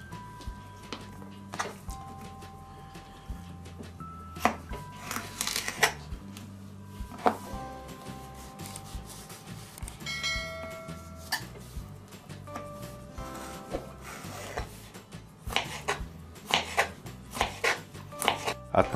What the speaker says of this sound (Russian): Один свежий огурец нарезаю не крупными кубиками.